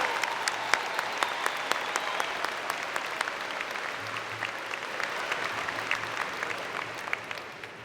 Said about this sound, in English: Can we have another round of applause for Florent Groberg?